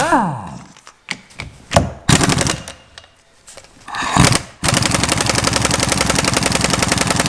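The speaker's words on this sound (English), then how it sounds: "I finally got the nut off with the air wrench." Air impact wrench on a nut of a Suzuki TS185 two-stroke engine being disassembled, starting with scattered knocks and clanks, then a loud, steady rapid-fire hammering rattle that runs continuously to the end.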